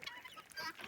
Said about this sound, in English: Oh, the chicken just flew over my shoulder.